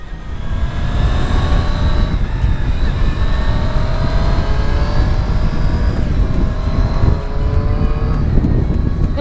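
Triumph Street Triple S motorcycle leaning into a corner on a road ride to Atazar, its engine roaring loud and close without a break, the pitch sliding and shifting as it holds through the turn.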